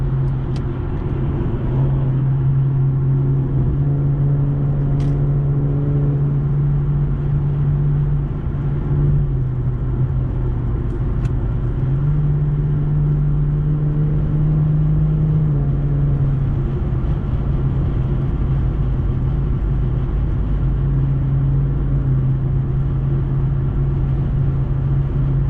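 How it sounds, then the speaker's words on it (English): An Infiniti Q50 Sport cruises steadily while the driver paddle shifts, its engine drone holding a constant loud hum that steps down and back up at each gear change, with road rumble underneath and no voices throughout. "what I can do is paddle shift the rest of the way home"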